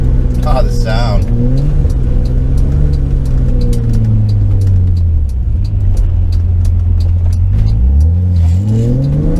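Engine of a 1988 BMW iX 4x4 heard from inside while driving, a loud, steady drone whose pitch climbs and falls as the revs rise and drop through gear changes.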